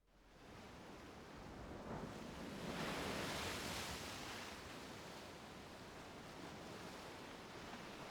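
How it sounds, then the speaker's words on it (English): Ocean waves surge as a broad, continuous wash in game ambience from Umineko, swelling to a peak midway and easing off, fairly soft with no talk. "Can you hear the ocean now?"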